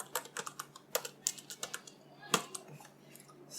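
Typing on a computer keyboard to enter a Maven build goal, a run of close, crisp keystrokes in an irregular rhythm with one louder tap near the end, otherwise quiet.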